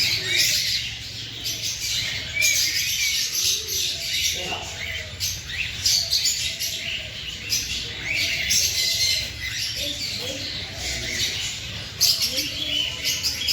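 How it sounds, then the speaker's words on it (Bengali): Dense, busy bird chatter with squawks and chirps from many cockatiels and other birds at once at a mini zoo in Baruipur, steady throughout, with faint background murmur underneath. "এখানে রয়েছে ককাটেল।"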